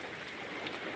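Light rain easing off over a village, a soft, even hiss of drops with no distinct impacts, steady and unbroken for the whole second.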